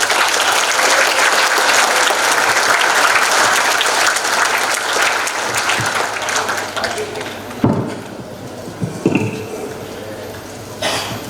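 An audience at an advocates' swearing-in and briefing ceremony claps loudly and steadily for several seconds before the applause thins out into scattered claps, a cough and a few soft taps.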